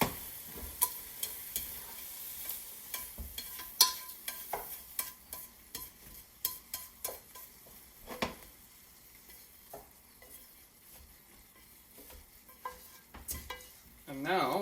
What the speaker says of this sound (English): finishing up sauteing the second round of spinach here